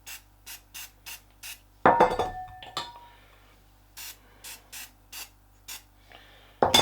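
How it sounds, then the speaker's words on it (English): Short bursts of non-stick aerosol cooking spray hiss in a quick rhythm as pie pans are greased, interrupted by a clatter of metal pans being handled, then more spraying. "I use this stuff, Decora non-stick spray to grease pans and easily detach sweet and savoury"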